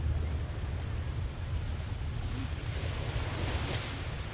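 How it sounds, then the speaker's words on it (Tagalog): Steady broadband wash of surf with a constant rumble of wind underneath, no distinct breaks, continuous throughout. "Dahil malakas din ang ating alon, syempre nasa beach tayo."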